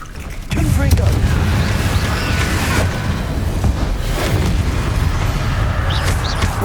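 Confringo fire spells in the Hogwarts Legacy video game bursting again and again in a fight against Inferi, a dense run of loud booming blasts and crackling impacts that continues without a break.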